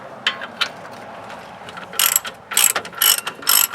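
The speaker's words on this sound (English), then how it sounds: "using a ratcheting wrench" Ratcheting wrench loosening spline bolts on a 2015 Mustang suspension, a few soft clicks followed by several short, sharp, close ratcheting bursts in quick succession, no talking.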